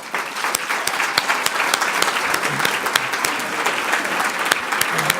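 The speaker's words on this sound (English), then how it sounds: "could I please ask you to stand for also a round of applause?" Audience at a welcome plenary of a 2018 action forum stands and applauds, dense sustained clapping filling the hall steadily from start to finish, loud and close, with a few louder individual claps standing out.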